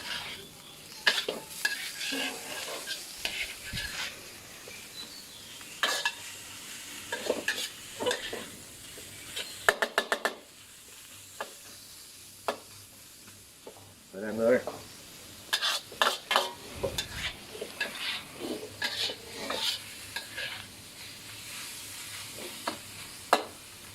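Stir-frying nham fried rice in a pan, with intermittent scraping and stirring strokes over a soft sizzle, close and fairly loud, arriving in irregular bursts with short pauses between.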